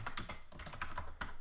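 Quick, uneven keystrokes on a computer keyboard, a close, crisp run of about a dozen clicks and taps while entering text in a terminal editor.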